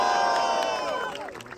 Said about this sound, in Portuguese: Muito barulho pro Drill do Carrão!